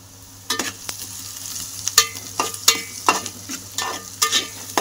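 Onions frying in a pan with cumin for a chicken gravy, a soft sizzle under repeated sharp stirring scrapes, close and rhythmic, about one stroke every half second.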